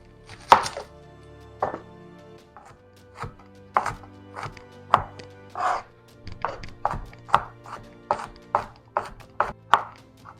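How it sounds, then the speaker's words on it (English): An onion is sliced and diced on a cutting board with a knife, giving a close series of crisp chops that come in an uneven rhythm and speed up toward the end, with no talking. "So let's go ahead and get this onion sliced and diced."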